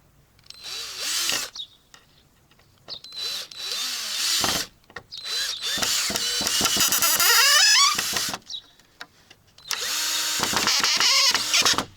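A cordless power drill drives screws through wooden fence pickets in repeated loud bursts, whining up and winding down between short quiet gaps, with tool clatter in between.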